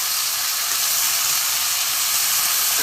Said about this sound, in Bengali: সবজিগুলো একটু ভেজে নেবো ভালো করে